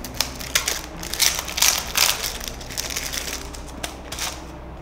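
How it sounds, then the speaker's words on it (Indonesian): Plastic wrapping being opened from a package bought online, with steady crinkling and crackling and several sharper tearing bursts, close and continuous for several seconds. "Kita buka plastik dulu."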